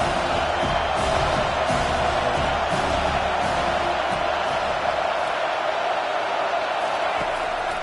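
A college football stadium crowd in Boston roars steadily, trying to keep the opposing team pinned deep in their own end; a dense, continuous wall of cheering that thins a little near the end.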